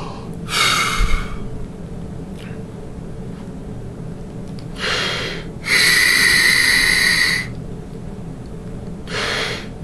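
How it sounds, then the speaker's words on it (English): A brass teacher draws slow, audible breaths in and out, several soft rushing inhalations and exhalations, one longer and louder than the rest, close to the microphone in a quiet room. "Take a big natural breath and leave it alone."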